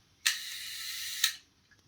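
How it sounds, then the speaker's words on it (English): Shutter release of a Neoca 2S film camera: two crisp mechanical clicks about a second apart with a soft rushing hiss between them, then quiet. "the shutter would not release. It does now."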